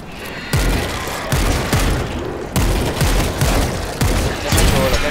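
Bursts of gunfire in the video game World War Z repeat in quick volleys, each a sharp booming crack with a rumbling tail, loud and close with no talking.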